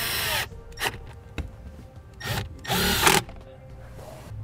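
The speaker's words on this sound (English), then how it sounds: "secure it with the provided self-tapping" A power drill drives self-tapping screws into the dash of a 2012 GMC Savana van while a trailer brake controller is mounted: several short, close whirring bursts with brief pauses between them, and no talking.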